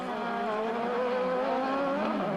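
Pro Light off-road race trucks roar around Las Vegas Motor Speedway in round 6 of the 2010 LOORS series, a loud, sustained engine drone that holds steady near the listener.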